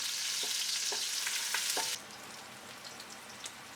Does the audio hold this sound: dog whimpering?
no